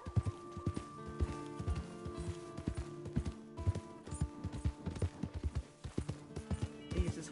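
Horse hooves clip-clop at a steady trot in Red Dead Redemption 2, a rhythmic run of close, punchy beats with game music humming underneath and no talk.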